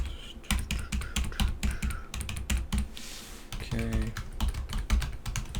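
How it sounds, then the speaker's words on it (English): Close, quiet typing on a computer keyboard during a doctor check-up roleplay, a run of rapid key clicks with a brief pause, while a voice says one short word. "I need to type it up there."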